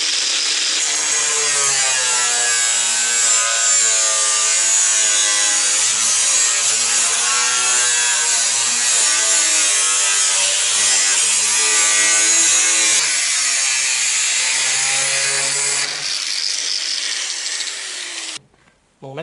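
Sheet metal on a Citroën Traction 11B being cut with a power tool in two passes, a loud, continuous, high-pitched whining grind with a short break partway through before it winds down and stops.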